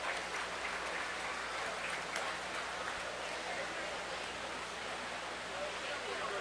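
Steady, wide applause from an audience ringside at a county fair market beef show, honoring the exhibitors. It rolls on evenly for several seconds as a dense wash of clapping, with a faint voice underneath.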